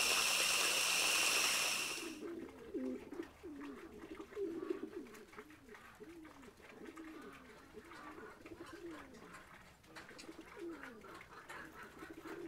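Pigeons on a farm give soft, repeated throaty coos close by. They are steady and moderately loud over a faint background of trickling water, and a brief burst of hissing noise comes first.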